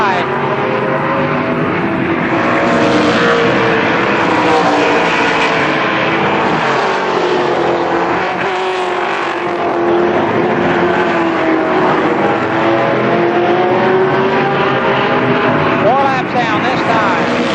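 Race cars lapping Columbus Motor Speedway during a 1998 Door Buster race, a loud continuous engine roar with rising and falling pitch as cars pass, running under steady announcer commentary.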